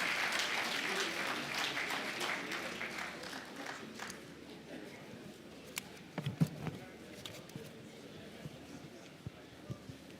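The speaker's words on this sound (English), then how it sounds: "Please encourage him with a round of applause as he comes to the podium." Audience applause at a graduation ceremony as a guest speaker comes to the podium, a dense wash of clapping that swells early, then thins to scattered claps with faint voices in a large hall.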